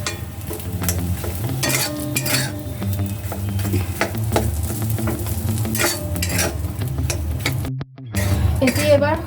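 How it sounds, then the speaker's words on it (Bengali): Egg chops frying in hot oil, a dense continuous sizzle with frequent clinks and scrapes of a metal utensil against the pan, close by, ending with a brief cut near the end. "মিনিমাম 3 মিনিট ধরে ফ্রাই করতে হবে।"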